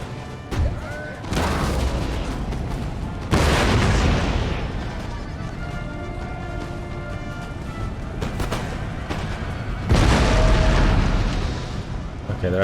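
Cannon artillery fire in the video game Empire: Total War, with repeated booming volleys landing a few seconds apart against a continuous battle din that stays loud throughout the scene.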